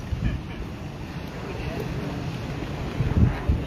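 Strong wind gusting across an outdoor university campus, a steady roar of buffeting with louder bursts near the end, close to the microphone.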